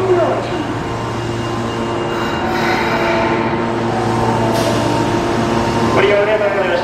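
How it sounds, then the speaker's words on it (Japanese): A Tanimachi Line subway train pulls into Minami-morimachi station in Osaka with a steady low rumble, a constant hum and brief wheel squeals, while a Japanese platform announcement plays over it. "1番線に到着の電車は谷町4丁目天王寺方面文の里行きです。"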